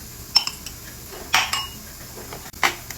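A spoon scrapes and clinks against a pot while flour and seasoning are stirred for creamy chicken and dumplings: a few short, bright metallic scrapes spaced out over a quiet background, with no talking.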